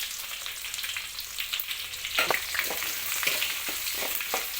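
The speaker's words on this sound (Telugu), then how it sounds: "మేము కరివేపాకు ఎక్కువ వేసుకొని తర్వాత ఆనియన్స్ వేసుకోవాలి కొద్దిగా శనగపప్పు" Curry leaves, onions and chana dal frying in oil for pulihora: a steady close sizzle broken by bursts of crackling and scraping as the pan is stirred, no talking.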